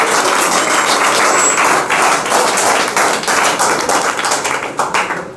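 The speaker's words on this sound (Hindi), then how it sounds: "ताली बजाओ।" A group bursts into sustained clapping nearby, a dense, loud patter of hand claps that holds steady for several seconds before thinning slightly at the end.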